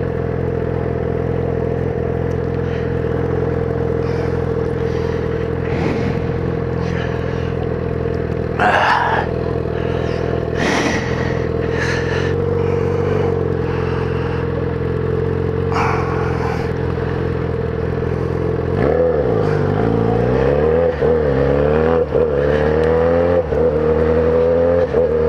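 Pink Yamaha XJ6 motorcycle with an aftermarket exhaust riding on a city road, a steady droning engine note with a couple of throttle rises and gear-change surges near the end, wind and traffic noise underneath.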